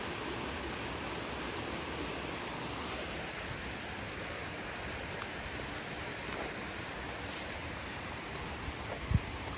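A waterfall rushes in a steady, unbroken wash of water noise, with one brief thump near the end.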